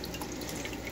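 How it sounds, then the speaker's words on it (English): Aquarium filter sponges being rinsed in water, a continuous close splashing and dripping wash with no pauses. "I am going to rinse my sponges."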